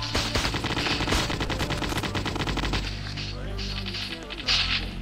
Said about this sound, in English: Oh crap, someone's shooting back.